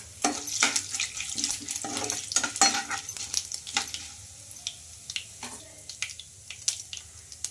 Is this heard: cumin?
yes